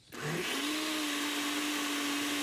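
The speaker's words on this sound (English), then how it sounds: "The cover goes on and we let the blender do its thing." A countertop blender whirs up to speed crushing ice with strawberries for a smoothie, a steady loud motor whine holding constant after a quick start-up, with no talking.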